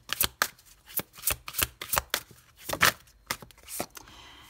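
Oracle cards from a Le Secret deck being shuffled by hand, a quick run of crisp riffling and flapping bursts in an uneven rhythm, close and fairly soft, with no speech.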